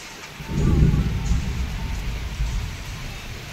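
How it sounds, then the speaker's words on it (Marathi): The first monsoon rain falls outdoors as a steady, soft wash with a low rumble swelling early on, and a faint voice is partly audible beneath it. "पहिल्या पाण्याच्या धारला पावसाचं वातावरण असं बघा कसं झालंय ना"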